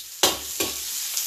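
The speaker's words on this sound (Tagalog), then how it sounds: "lagay na natin yung sibulyas. Sabay na rin yung bawang na may balat." Chopped onion and unpeeled garlic cloves hit hot fat in a pan, bursting into loud sizzling three times as they are stirred and settling into a steady hiss between the bursts.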